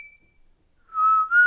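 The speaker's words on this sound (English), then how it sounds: "Oh, he's just whistling." A person whistles a brief high note, pauses, then gives a longer lower whistle that slides upward, close and clear.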